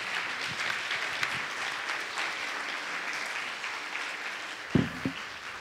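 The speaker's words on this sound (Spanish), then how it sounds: "démosle un aplauso a la doctora Dulce" Seminar audience applauding after a talk on recent volcanic eruptions and Colima volcano, a moderate, steady patter of clapping through the room with a couple of brief louder knocks near the end.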